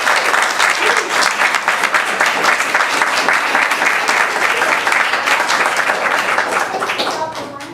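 Sustained audience applause at a school board work session fills the room with dense, even clapping for about seven seconds before tapering off at the close.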